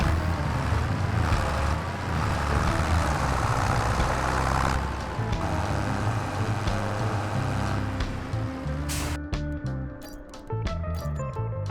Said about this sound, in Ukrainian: Під'єдную до трактора і знову їду на склад за матеріалами.